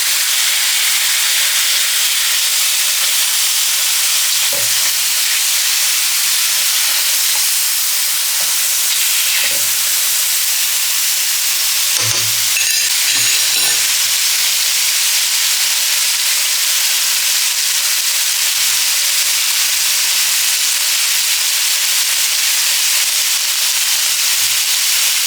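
Frozen onion sizzles in a pan, a loud and constant frying hiss that fills the whole stretch, broken now and then by faint clinks and a few stirring knocks.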